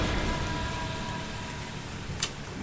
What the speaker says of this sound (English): You head out into the rain.